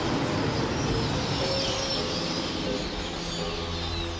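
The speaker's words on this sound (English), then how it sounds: "These tiny birds take safety in numbers to extremes." A huge flock of tiny birds at a dawn waterhole in Zambia's Luangwa Valley fills the air with a dense, continuous wash of chattering calls, with no distinct single voice.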